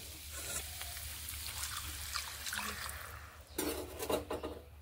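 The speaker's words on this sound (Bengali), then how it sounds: "জলগুলোকে একটু মিশিয়ে নিচ্ছি আর একটু নেড়ে নিচ্ছি।" Cauliflower and pea curry being stirred in a pan after water is poured in: soft sizzling and bubbling with a few spoon scrapes and clinks against the pot, a louder clatter near the end, no talking.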